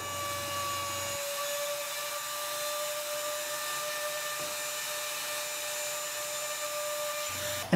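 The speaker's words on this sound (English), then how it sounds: "Then routed out those horizontal lines." A router cuts horizontal lines into pine wood, a steady high-pitched whine that holds evenly for several seconds, close and constant.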